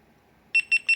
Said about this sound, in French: dès qu'on entend les trois bips c'est qu'elle est allumée